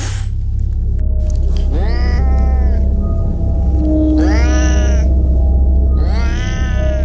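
A black cat meows three times as a sound effect in an audio drama of Poe's tale, each cry drawn out and wavering over a steady low rumbling drone.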